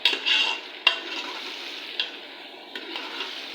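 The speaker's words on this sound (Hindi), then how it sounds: "ये देखिए ये अच्छी तरीके से इसको फ्राई कर लेते हैं।" Chicken pieces and onion fry in a pan with a soft, continuous sizzle, punctuated by a few sharp scrapes and clicks as the food is stirred.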